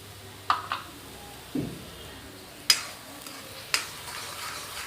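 Oil heating in a pan for a homestyle tomato curry, a faint steady sizzle under a few sharp utensil clinks and scrapes spaced through the moment.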